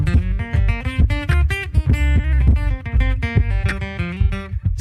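An electric guitar played through a loop pedal mix strums a fast, loud, close rhythmic pattern of chords with a thin, muddy, poorly balanced tone and no talk.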